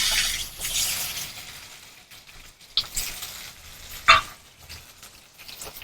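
Chopped onions and garlic with curry leaves frying in a pan for a spicy small-onion curry, a steady moderate hiss that swells early, then softer sizzling broken by a few sharp crackles.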